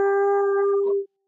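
A human voice imitates a creature's howl during a Curse of Strahd tabletop session: one sustained, steady-pitched tonal wail about a second long, heard close and alone, cutting off abruptly.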